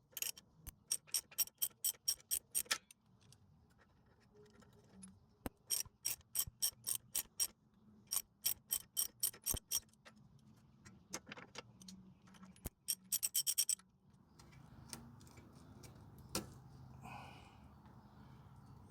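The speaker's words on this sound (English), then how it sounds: "And then I got a 12mm socket and held on" A 12mm socket wrench loosens a sway bar end link nut on a 2006 first-generation Scion xB. Rapid metallic ratchet clicks come close up in several bursts, separated by pauses and soft handling clatter.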